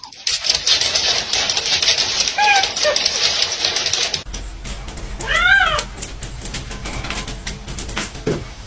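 A house cat meows indoors, with a couple of distinct rising-falling meows close to the microphone over a steady mechanical hum, and a person speaking briefly.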